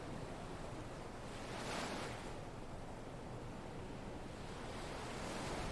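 Sea waves washing in a steady broadband rush, one swell building and receding in the middle, moderate and continuous with wind-like hiss and no talk.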